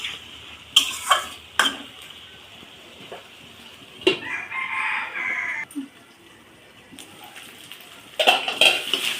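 A lid clatters onto a cooking pot of chicken offal being braised with fried potatoes, with sharp metallic knocks scattered through the clip and a rooster crowing in the background.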